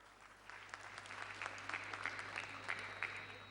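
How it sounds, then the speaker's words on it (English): At an International Jockeys' Weekend draws ceremony party, a crowd applauds the sponsors: soft, distant, continuous clapping that swells slightly and holds, over a low electrical hum. "All those sponsors deserve a round of applause"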